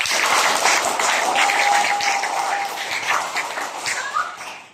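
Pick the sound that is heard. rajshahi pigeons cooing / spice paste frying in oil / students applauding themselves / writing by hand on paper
students applauding themselves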